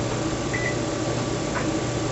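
A microwave oven runs with a plate of spaghetti inside under a napkin, giving a steady close electrical hum with a faint tonal whine throughout.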